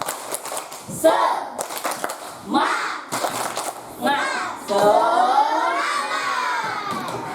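A classroom of children stands and performs the 'tepuk semangat' clapping chant, with sharp rhythmic claps and loud, shouted chanting voices in quick bursts, then a long sustained group shout at the end.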